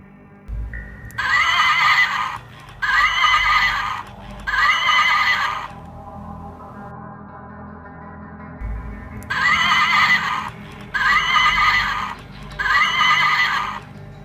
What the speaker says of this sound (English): This one can still neigh.